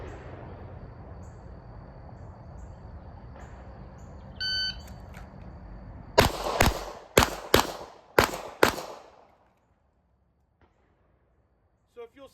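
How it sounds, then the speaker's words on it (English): A handgun fires a string of about six sharp, loud shots at a row of targets in uneven rhythm, after a stretch of steady outdoor noise and a short electronic beep, then the range falls quiet. "when you shoot this array of targets, the cadence of your shots should not sound the same"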